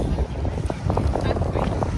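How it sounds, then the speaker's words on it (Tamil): Strong cold wind blows by the sea on an American coast. It makes loud, steady, rumbling gusts of wind noise on the microphone throughout, with someone talking over it. "தண்ணி பக்கம் போக போக வந்து பயங்கரமாக குளிர் காற்று தான் அடிக்குது"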